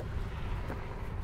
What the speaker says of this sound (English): Strong winds. I apologize for the noise.